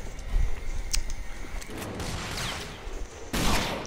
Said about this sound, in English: This guy still shooting at me